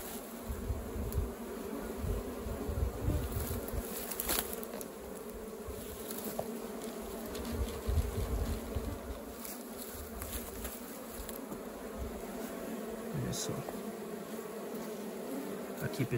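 Apis honey bees swarming in a termite mound out in a pasture, a dense steady buzz of many insects close by with individual bees droning past the microphone, no voices.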